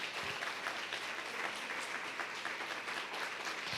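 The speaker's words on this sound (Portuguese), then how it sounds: "Se for para aplaudir, aplauda o Senhor mais forte que você puder." A church congregation applauds throughout, with dense, sustained clapping from many hands at moderate loudness and no voices over it.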